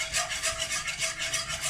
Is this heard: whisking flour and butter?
yes